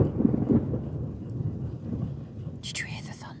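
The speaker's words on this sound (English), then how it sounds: "Did you hear the thunder?" A low, steady rumble of distant thunder rolls under light rain during a summer hailstorm at an outdoor festival, with a brief higher-pitched voice near the end.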